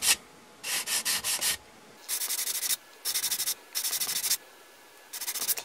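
Super glue seams on an ABS RC car body, a Tyco Baja Bandit, being hand-sanded in six bursts of brisk scratchy strokes, close and fairly loud, with short quiet pauses between them.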